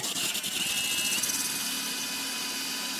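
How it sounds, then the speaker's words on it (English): Power drill running slowly and steadily during an electrical installation, a close continuous whirring motor tone with no talking over it. "you gotta go nice and slow with the drill"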